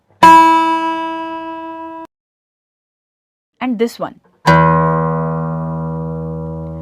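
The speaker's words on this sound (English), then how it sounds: "This guitar has lots of strings. You can hear different sounds when you pluck these." Two plucked guitar strings ring out separately, the first brighter and higher, the second deeper and sustained, with a brief spoken phrase between them.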